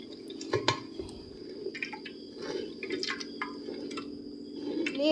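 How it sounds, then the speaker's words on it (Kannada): Finger millet (ragi) milk being squeezed and strained by hand as water is worked into the ground ragi, giving close, intermittent dripping, trickling and wet squishing sounds with a steady low hum underneath. "ಬರೀ ಹಾಲು ತೆಗಿತಾ ಇದ್ದೀನಿ ನೋಡಿ"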